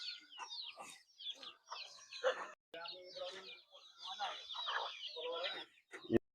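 Chickens cluck and chatter close by in short, uneven bursts, with occasional sharper calls mixed in.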